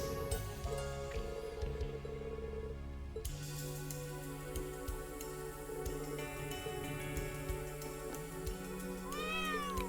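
A cat meows repeatedly in Trails of Cold Steel III over a busy, layered game soundtrack with steady tones and ticking, the meows standing out in short bursts.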